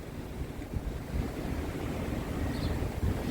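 Atlantic Ocean surf and wind at Myrtle Beach, a steady broadband wash of waves with gusty wind buffeting the microphone, fairly close and continuous with no talking.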